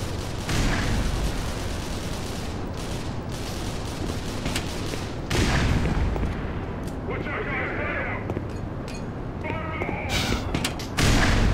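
Grenade explosions and gunfire in the video game Black Mesa come as repeated heavy thumps and bursts of shots over a dense rumbling battle din, with a voice speaking at times.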